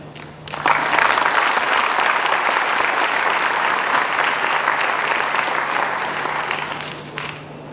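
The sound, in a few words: audience applause at a State Bank foundation day event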